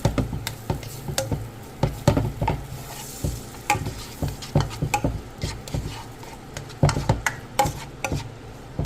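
Chopped onion sautéing in melted butter in a pot, a soft sizzle broken by repeated sharp scrapes and taps of a spoon stirring at an uneven rhythm, close up with no talking.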